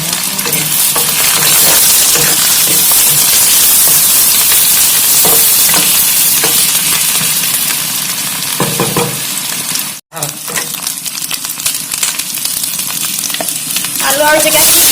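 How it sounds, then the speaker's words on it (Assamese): Onions fry in hot oil in a home kitchen, giving a loud, continuous sizzle close by. Occasional scraping stirs and clinks break through the sizzle. "এয়া পিঁয়াজখিনি দি লৈছোঁ তেলত।"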